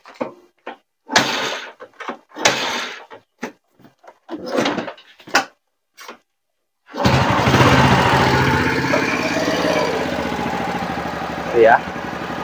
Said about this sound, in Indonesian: Bunyinya di bak kopling kanan sudah halus ini ya.